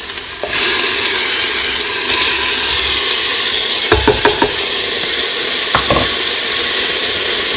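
Zucchini and eggplant drop into a hot pot of chicken soup base and set off a loud, steady sizzle that starts abruptly, with a few sharp utensil clinks against the pot and no talking.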